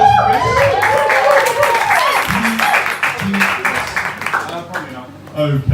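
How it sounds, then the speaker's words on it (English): An audience applauds a performer taking the stage, a dense burst of clapping and crowd noise lasting several seconds, mixed with cheers and a speaking voice. "Round of applause for Chris."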